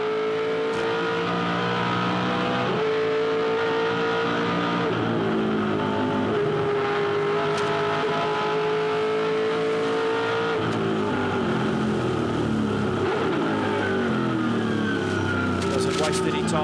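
A 2005 Supercars Championship race car laps the Adelaide 500 street circuit, its V8 engine revving loud and close through gear changes, with sharp downshifts, rising and falling pitch and occasional bursts while a commentator talks over it.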